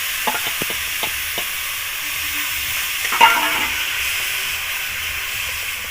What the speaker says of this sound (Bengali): এই যে কুচি করা ওলকপিটা দিয়ে দেবো তেলে।